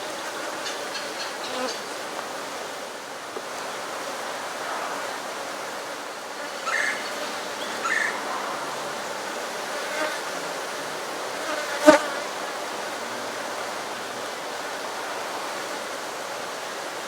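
Honeybees drone steadily around a hive whose queen has yet to hatch, a dense continuous buzz with a few individual bees passing close and one sharp click near the end, no voices.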